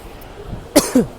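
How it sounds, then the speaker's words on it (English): Two short, sharp coughs close to the listener, one right after the other, with quiet room noise around them. "I'm sorry about my coughing."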